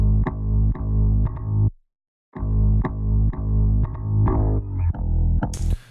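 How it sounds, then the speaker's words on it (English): Soloed live bass loop made from a manipulated Splice sample, playing loud, distorted, rhythmic bass notes with sharp attacks, a brief gap of silence, then more notes and a pitch glide ending in a bright hiss. "The live bass is actually just a splice sound that I've manipulated"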